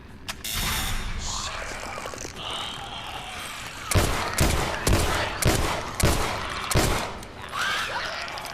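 Gunfire in The Last of Us: a run of loud, sharp shots in quick bursts, each with a ringing tail. Mechanical clicks and ratcheting come before them, with almost no talk over the top.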